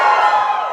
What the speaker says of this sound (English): Give us a cheer if you drive manual.